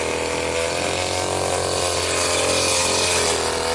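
A grass cutter chops through tall weeds while a fish pond is being cleared, a loud continuous motor whine with buzzing and rattling as the blade bites into the growth, close and unbroken.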